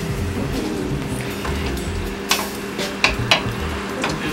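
Shrimp and pancit noodles cook in a hot pan, a steady low sizzle punctuated by a few sharp scrapes and clanks of a utensil against the pan.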